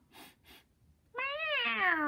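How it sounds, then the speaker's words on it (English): A cat gives one clear, rising-then-falling meow, loud and close, after two soft breathy sounds. ""Meow, I'm hungry," said the cat."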